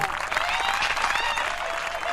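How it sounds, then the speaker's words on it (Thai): Dense applause from a studio audience, steady and sustained throughout, fairly close and even in loudness. "ขอบคุณสำหรับเสียงปรบมือต้อนรับวันจันทร์นะคะ"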